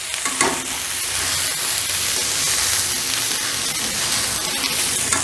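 Rice sizzling and frying in a pan for matar pulao while it is stirred gently, a steady close broadband hiss with soft scraping strokes throughout and no talk.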